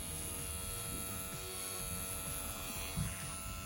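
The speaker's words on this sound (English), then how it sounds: "Do a straight line, turn that trimmer around, go right around the ear, bend that ear down" Electric hair trimmer buzzing steadily and close up while cutting a child's hair around the ear during a Euro hawk haircut, a constant motor hum with no pauses.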